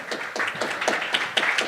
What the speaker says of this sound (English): Thank you for your applause for Marta.